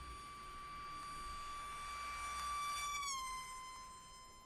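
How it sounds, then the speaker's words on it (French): A vehicle's siren passes close by as a steady high tone, then its pitch falls sharply as it goes past and fades, alone over faint background rumble. "la fréquence du son émis par la sirène embarquée dans le véhicule décroît brusquement"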